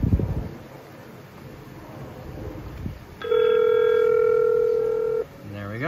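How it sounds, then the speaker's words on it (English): A telephone on a network linking two AREDN mesh nodes plays a steady, loud dial tone for about two seconds after a brief burst of talking and handling noise, then cuts off abruptly. "So on this phone, I can dial the other phone."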